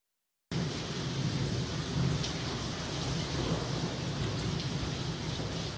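Heavy rain pours down steadily in a dense, continuous hiss, with low rolling thunder rumbling underneath, loud and close, starting after a brief silence and lasting to the end.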